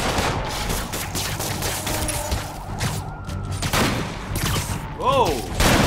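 Snipers fire in the Spider-Man video game, producing clusters of sharp shots amid busy game effects, with some voices and a rising whoosh near the end.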